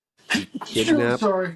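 A single sharp sneeze cuts in near the start, followed straight away by a person talking.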